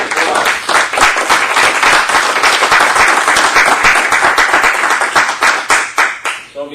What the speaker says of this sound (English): So if we could get a round of applause.